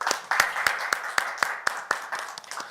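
Audience at a National Assembly forum on internet regulation policy clapping in sharp, evenly spaced claps, fairly close and without talk.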